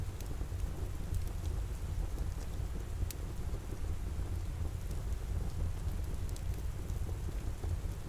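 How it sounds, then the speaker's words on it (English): Steady rain patters alongside a crackling fire, a dense continuous wash with scattered sharp pops and crackles, no voices present. "letting the sound of rain and fire hold you in this quiet pocket of time"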